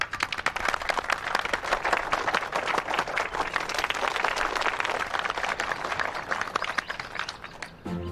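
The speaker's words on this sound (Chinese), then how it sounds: "让我们以热烈的掌声欢迎航校的名誉校董" A crowd of aviation school students gives warm applause welcoming the honorary school director and airline chairman, steady dense clapping sustained for several seconds at moderate distance, ending with a brief pause.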